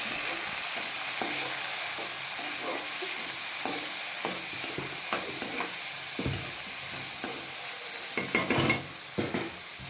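Cut tomatoes fry in a hot pan for a vegetable biryani, giving a continuous close sizzle broken by frequent stirring scrapes and clinks that get busier toward the end, with no speech.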